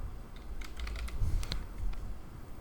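Quick keystrokes on a computer keyboard, a burst of close, crisp clicks typing a short word, with no talk.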